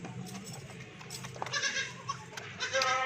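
Rajanpuri goats, nannies with kids for sale, bleat in a pen, several overlapping calls of varying pitch against a busy background, with a voice briefly audible.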